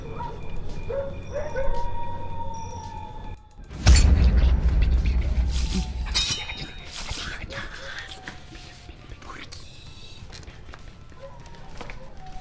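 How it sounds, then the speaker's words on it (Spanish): Dogs bark and howl at night, around 3 AM, with drawn-out howling tones early on, then a loud burst of noise, while people talk throughout. "Están ladrando mucho los perros."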